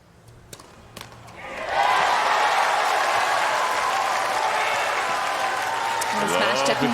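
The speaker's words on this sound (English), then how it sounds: "The crowd has come alive, backing Eala." A US Open tennis crowd in a first-round women's match bursts into loud sustained cheering and applause for Alexandra Eala, swelling abruptly after a few quiet seconds and holding at full volume to the end.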